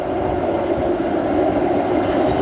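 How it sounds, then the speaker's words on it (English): Tram running along Helsinki Street in the Kallio district, a steady loud rolling rumble with broad street noise throughout, close by and continuous with no voices. "So you can see the trams is running over there."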